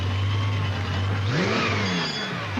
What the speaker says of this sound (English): revs the engines